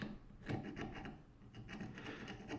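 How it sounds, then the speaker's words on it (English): Hand file rasps lightly across a sawn edge to knock off the burr, a quiet series of short rhythmic strokes, close and alone with no talk. "just take a file and actually kind of just, you know, angle this a little bit just to get that burr off of there"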